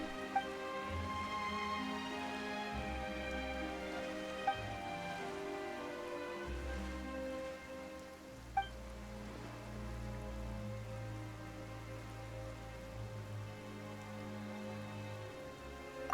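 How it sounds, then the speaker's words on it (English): Steady rain patters on surfaces in Genshin Impact, a continuous hiss of drops with game music playing underneath for the full stretch. "Why is it raining all of a sudden?"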